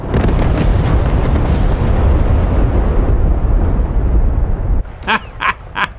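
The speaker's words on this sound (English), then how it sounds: "Our bombs went everywhere." Heavy bomb explosions from a B-52 raid rumble continuously around the battleship Tirpitz in a naval video game, a dense roaring barrage that cuts off abruptly, followed by a few sharp distant pops.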